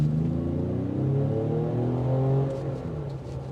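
A 2025 Ford Explorer ST with a 400-horsepower engine accelerates from inside the cabin, a steady rising engine growl that climbs in pitch through the revs before easing off near the end.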